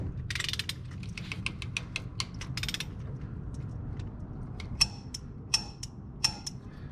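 Ratchet wrench torquing a rear hub nut to 70 foot-pounds on a 7.3 Powerstroke swap brake job, with a run of quick ratcheting clicks early on, then three sharp, distinct clicks spaced about a second apart near the end.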